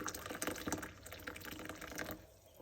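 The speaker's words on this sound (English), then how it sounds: "into that I'm going to put some hot water, about 100 ml." Hot water from a kettle is poured into a glass holding a measure of rum, a close, fairly quiet gurgling trickle of liquid that runs steadily and then tapers off.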